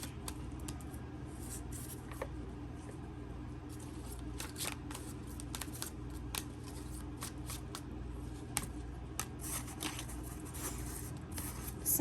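Steady, papery riffling of tarot cards being shuffled, with frequent soft snaps and flicks over a low background hum, continuing without pause.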